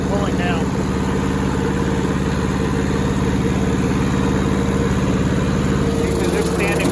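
An old, rusty Hinomoto tractor mowing a wet field gives a steady, loud, close engine drone with a constant low rumble and chugging pulse, running without pause throughout.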